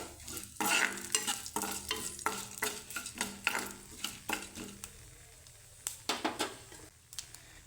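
Cloves and cumin dry-roasting in a pan, stirred with a rhythmic run of scraping, rattling strokes over a faint sizzle, close and fairly quiet, no speech.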